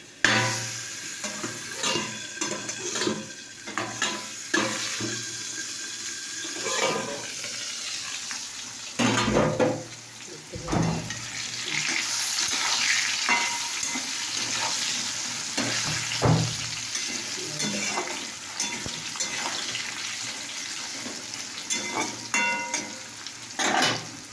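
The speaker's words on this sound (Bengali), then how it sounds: "আলুটা ভাজা হয়ে গেছে" Potatoes fry in a pan with a continuous hissing sizzle, broken by repeated scraping stirs and a few louder knocks of the utensil.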